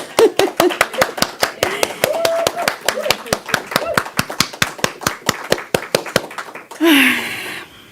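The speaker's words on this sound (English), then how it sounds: "let's give Reverend Kris a round of applause" A church congregation applauds Reverend Kris with crisp, evenly spaced claps in a steady rhythmic beat, while voices carry along underneath before the clapping trails off near the end.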